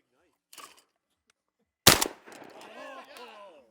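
Shotgun fired at a skeet target during a kick-off shooting event: a brief call, then one loud, sharp blast close by, followed by voices talking and cheering.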